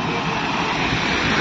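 Steady broadband rush of splashing water from an indoor fountain inside a shopping mall, continuous and fairly loud across the whole moment with no clear voices.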